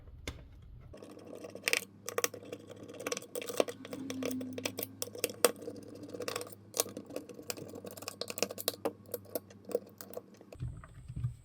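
Small Phillips screws on a CAT LED light being loosened with a screwdriver, heard as quiet scattered clicks, ticks and light metallic taps spread across the stretch, with a brief low rumble at the start and end.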